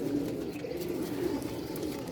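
An old Ali wale pigeon, a bird from 1987, gives low, soft cooing close by, a continuous murmur with gentle rises, and no talking.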